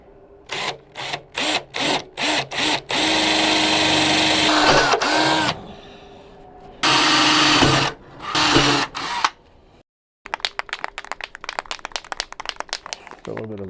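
A power drill bores holes into the metal body of a Sprinter van: short close bursts come in a quick series, then longer sustained runs, and rapid clicking ticks follow near the end.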